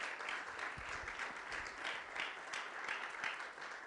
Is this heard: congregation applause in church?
yes